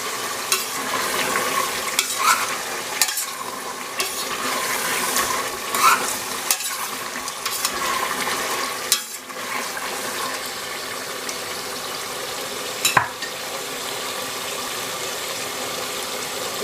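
Salt being stirred into a simmering lamb and spinach curry in a pan: a continuous wet sizzle and bubbling with soft scraping and occasional spoon knocks against the pan, no voices.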